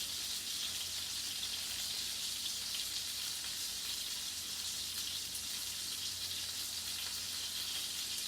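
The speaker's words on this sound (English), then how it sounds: "I'm going to let it cook a little longer, because I like mine done." A hamburger fries in a pan with a steady, close sizzle and crackle that holds even and unbroken throughout, with no voices.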